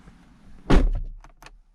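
A door on a 2019 Porsche Macan opens with a single solid clunk, close and clear, followed by a couple of faint light clicks and rustles in otherwise quiet surroundings.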